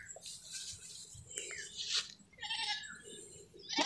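Anglo-Nubian goats bleat faintly and repeatedly amid a busy outdoor pasture, with scattered rustling and chewing noises close by.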